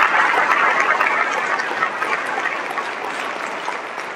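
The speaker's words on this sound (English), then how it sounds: "We could give my teachers a round of applause" An audience at a teacher-of-the-year ceremony applauds the teachers, dense steady clapping that is loudest at the start and tapers gradually, filling the room without talk.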